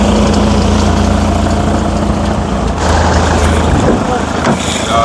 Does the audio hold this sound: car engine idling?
yes